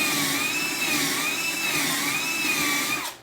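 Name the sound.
drill boring a hole in a wooden shelf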